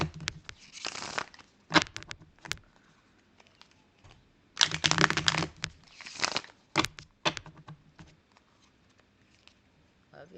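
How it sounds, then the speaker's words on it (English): Tarot cards being shuffled by hand, giving bursts of crisp riffling and slapping card noise in several rounds separated by short pauses, close and fairly soft, with no talking. "Give these another shuffle here."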